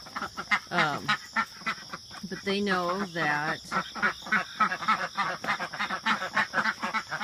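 Ducks quack in bursts as the coop is opened, the calls fairly close and overlapping with a voice talking throughout, over a constant high insect drone.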